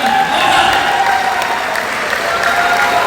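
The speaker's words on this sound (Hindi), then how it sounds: "जोरदार ताली होनी चाहिए" An audience at a business plan seminar applauds loudly and continuously, a dense wash of clapping close by that lasts the whole moment.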